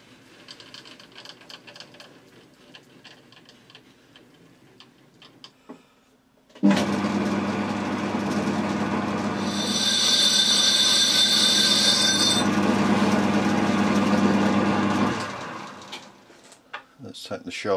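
A metal lathe chamfers the edge of a cast iron brake disc being made into an indexing plate. After quiet, a steady motor drone starts, a thin high whine cuts through partway, and the machine runs down near the end.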